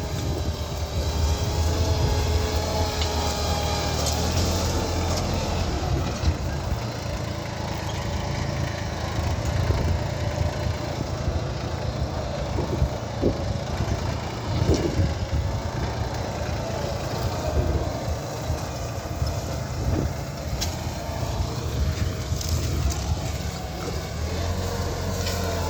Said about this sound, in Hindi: ट्रैक्टर चल रहा है फर्स्ट क्लास।